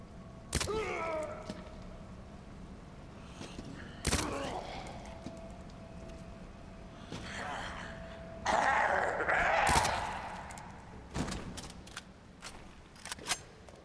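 Suppressed SMG fire in Resident Evil 2 on PS4: sharp, separated muffled shots with pauses between them, plus rattling mechanical bursts and a few quick clicks toward the end.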